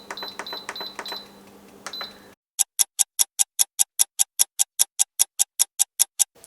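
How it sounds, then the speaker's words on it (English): An Instant Pot timer beeps in a rapid, evenly spaced run of about twenty sharp electronic tones, loud and close, after a brief stretch of clattering kitchen noise. "the timer just went off for the Instant Pot"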